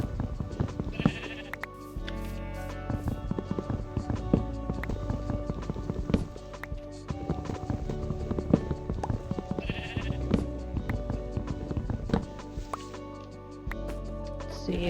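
Sheep in the Minecraft Project Ozone 3 modpack bleat in several repeated digital calls over background game music and clip-clop footstep sounds.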